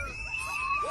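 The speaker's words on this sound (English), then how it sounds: "the camera is dropped as the audience starts screaming" Frightened spectators at a bullfight scream as a bull charges into the stands, a sustained shrill wail mixed with other shouting voices in a chaotic crowd.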